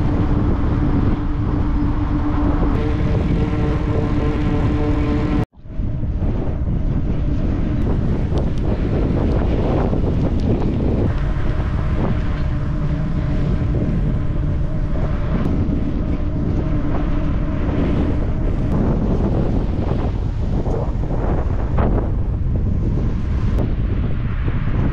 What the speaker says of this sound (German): hier auf dem freien Feld ist natürlich extremer Wind